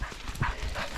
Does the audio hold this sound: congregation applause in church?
no